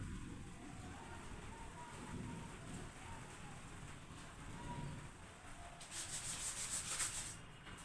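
A classroom board is rubbed clean with quick repeated scrubbing strokes that make a soft, continuous rasp, quiet and close, growing slightly brighter toward the end.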